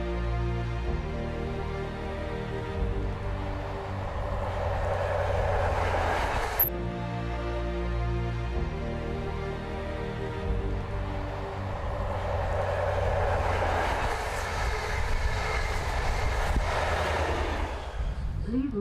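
A train runs over the Drumochter Pass summit, the highest point of the UK rail network, with a steady, continuous rumble and rolling noise heard from inside the carriage and a brief clunk partway through.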